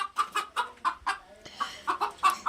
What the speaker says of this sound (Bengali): এখানে তো একটা মুরগি ধরতেই হবে